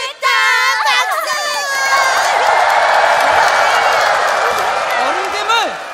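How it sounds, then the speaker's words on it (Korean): Children cheer and applaud together, a loud sustained burst of excited shouting and whooping with clapping mixed in, close and filling the space. "박수!"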